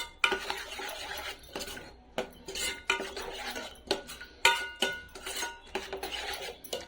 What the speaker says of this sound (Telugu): వేసుకొని కర్రీని బాగా కలుపుకుందాం.